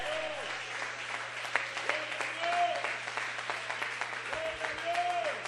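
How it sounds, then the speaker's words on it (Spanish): Applause from a congregation at a church service, steady clapping throughout with a voice calling out over it now and then. "Fuerte aplauso para el Señor"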